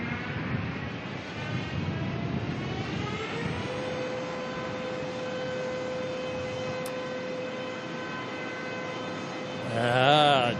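A Jetstar airliner's jet engines roar and whine steadily at an airport in Melbourne, with a sustained tonal whistle over a broad rumble and a louder surge near the end, heard from a distance.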